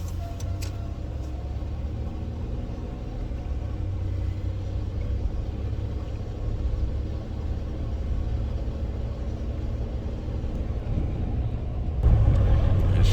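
An old used car drives off while its transmission gears are tested, giving a steady low engine rumble and road drone throughout, growing slightly louder near the end, with no talking.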